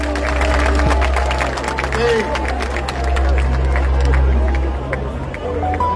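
An audience at a public event claps and cheers amid crowd babble, with a loud low hum running underneath and a voice speaking briefly over the noise.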